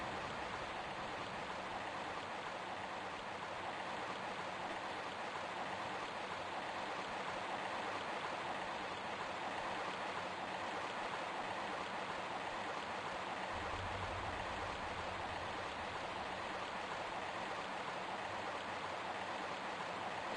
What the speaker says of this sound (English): Listen to the water.